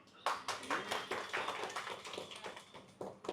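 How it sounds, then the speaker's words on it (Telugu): A small group of people clap in short, uneven bursts of sharp slaps, fairly close, with some voices in the background. "క్లాప్స్."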